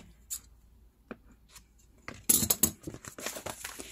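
Scissors cut paper for an envelope booklet, close and fairly soft. A few scattered snips and rustles come first, then a busier run of cutting and paper handling, with no talk.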